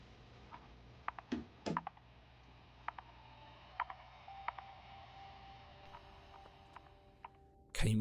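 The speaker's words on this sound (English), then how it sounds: "Can you explain the clicking noise that only happened inside the room?" Scattered clicking noises inside a room in a played spooky video, sharp sparse ticks at irregular intervals over a quiet hum, with a louder knock at the very end.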